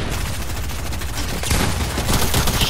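Dense, close gunfire in Fortnite, overlapping rapid shots forming a continuous barrage that grows louder and sharper halfway through.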